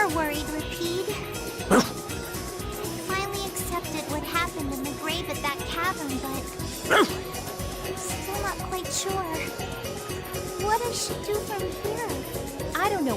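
A dog in the video game Tales of Vesperia barks and yips in short bursts, with a couple of louder sharp barks, mixed among character voices talking and game music.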